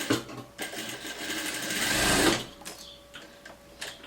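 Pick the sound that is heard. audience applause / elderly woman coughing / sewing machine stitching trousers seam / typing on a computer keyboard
sewing machine stitching trousers seam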